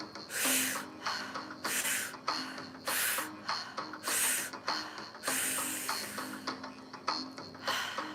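Deep breathwork during a guided meditation session, with a series of strong, close, rhythmic breaths that each rush in and out with a hissing, airy quality, repeated in quick succession.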